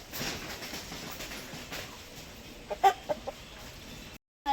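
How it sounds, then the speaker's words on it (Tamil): Quiet outdoor background on a country chicken farm with a few short clucks from a large rooster, including a sharper pair of calls near the end, no talking. "நல்ல பெரிய சேவல் ஃப்ரெண்ட்ஸ்."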